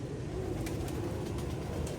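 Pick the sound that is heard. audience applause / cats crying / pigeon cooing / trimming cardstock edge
pigeon cooing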